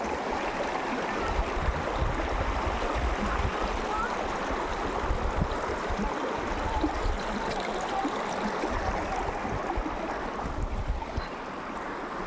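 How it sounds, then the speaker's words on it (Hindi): A river rushes loudly and continuously during a trek crossing in the Uttarakhand mountains, a dense steady roar of flowing water mixed with wind buffeting the microphone. "अब हम पार कर रहे हैं नदी"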